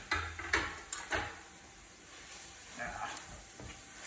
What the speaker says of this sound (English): Now as the spices get cooked very quickly here